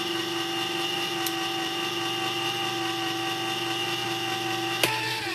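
Electric mixer whirring steadily in a baking bowl while making sourdough pumpkin bread, a loud continuous motor whine close up with a brief clunk near the end, no voices.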